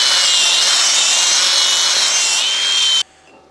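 Stick welding with a 7018 rod on an Arccaptain welder gives a loud, steady crackling hiss that runs close and unbroken for about three seconds, then cuts off abruptly into near silence.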